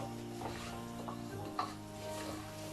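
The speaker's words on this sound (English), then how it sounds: "I'm going to stir it really well so that it doesn't catch the bottom" Rice is stirred in a pot, a spoon scraping and swishing through the grains with a faint sizzle underneath and one small knock against the pot, quiet and close.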